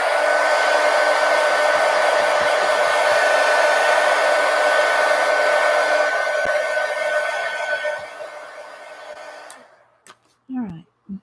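A hair dryer blows steadily and loudly for about eight seconds to dry paint in an art scroll. It then winds down and cuts off, leaving a few faint knocks and handling sounds.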